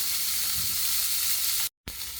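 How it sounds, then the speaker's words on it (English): Salmon fillets frying skin side down in a pan, a steady close hiss of sizzling oil that runs on evenly and is briefly cut off near the end. "you want them to cook for about 2 minutes on your skin side"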